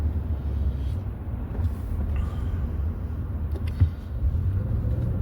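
A car being driven: steady low engine and road rumble with wind buffeting throughout, plus a few faint knocks and clicks, and no voices.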